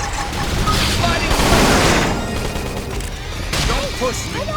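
Gunfire in the video game Xenoblade Chronicles X, a dense burst of rapid shots and impacts amid battle effects, with character voices speaking over the fight.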